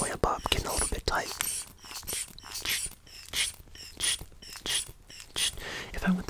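A clamp is twisted tight by hand, giving a series of close ratcheting clicks and creaks in short bursts with brief pauses between them, crisp and intimate in a quiet setting.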